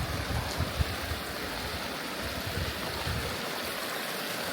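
A clean mountain stream in the Peruvian Andes flows with a steady, broadband rushing and gurgling that stays close and continuous throughout, with no voices over it.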